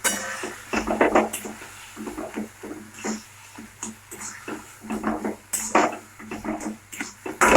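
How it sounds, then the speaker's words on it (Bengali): A utensil stirs and scrapes food in a pan after fried chili powder is added, with irregular clinks and knocks against the metal at moderate volume, no talk. "ভালো করে আমাদের মিশিয়ে নিতে হবে।"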